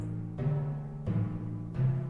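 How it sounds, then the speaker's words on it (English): Notation software plays back baroque mallet percussion, three tinny, ringing struck notes in slow succession, each sustaining with a hum-like tone, no voices over it. "I could have baroque mallets,"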